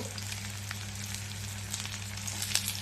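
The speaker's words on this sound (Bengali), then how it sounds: "দেখুন আমার পেঁয়াজটা ভাজা ভাজা হয়ে গেছে।" Steady, close sizzling of onions frying in a pan for a fish dish, a constant crackling hiss with occasional small pops and a low hum underneath.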